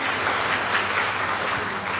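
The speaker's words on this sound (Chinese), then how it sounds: "咱拍手甲伊欢迎你" A church congregation at a Taiwanese-language Sunday service claps to welcome a newly arrived guest. The clapping is even and continuous throughout, with no pauses.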